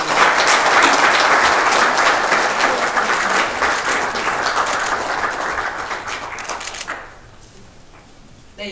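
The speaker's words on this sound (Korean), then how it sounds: "박수 부탁드립니다" Dense, loud applause from a crowd at an award ceremony for cultural merit medals, sustained for several seconds before tapering off and fading into near quiet.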